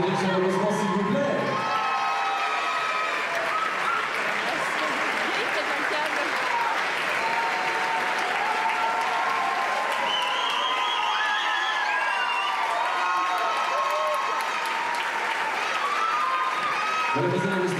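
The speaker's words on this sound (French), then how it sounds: "Et vous pouvez les applaudir chaleureusement s'il vous plaît." A pageant audience at Miss Saône-et-Loire 2014 applauds and cheers warmly, a dense sustained wash of clapping with whoops and shouts running for nearly eighteen seconds, music and a voice faintly underneath.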